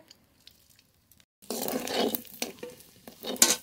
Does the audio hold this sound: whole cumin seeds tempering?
yes